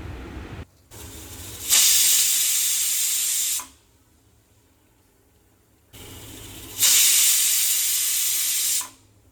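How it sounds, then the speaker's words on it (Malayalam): A pressure cooker whistle, cooking tomato rice, lets out two long, loud hisses of escaping steam, separated by a quiet pause. "നമ്മുടെ കുക്കറിൽ നിന്ന് വിസിൽ വന്ന് തുടങ്ങി"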